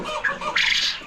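Farm birds including quails, black chickens and turkeys calling in their pens, a short burst of overlapping squawks and harsh cries, fairly close and loud.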